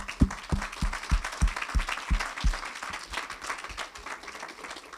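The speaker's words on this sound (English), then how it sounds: "So another round of applause." Audience applause at a talk on history and legacy, a dense patter of many hands clapping steadily throughout, fairly close and full, with a faint voice briefly underneath.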